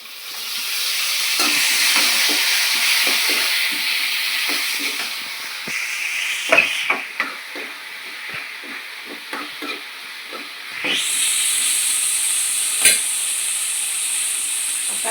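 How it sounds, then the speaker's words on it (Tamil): Tomatoes and onions sautéing in a pan for rasam give a steady, close frying hiss, broken midway by scraping stirs and a few sharp spatula knocks against the pan before the sizzle flares up loud again. "தக்காளி வதங்கட்டும்."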